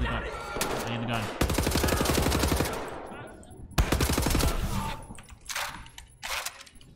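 Rapid automatic gunfire in Wolfenstein: The New Order rattles in two long, loud bursts with shorter shots and clanks between, close and harsh, with game sounds trailing off afterward.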